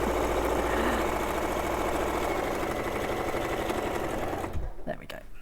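A sewing machine top-stitching a bag runs in a loud, fast, steady mechanical whir for over four seconds, then stops abruptly, leaving a few faint clicks and handling noises.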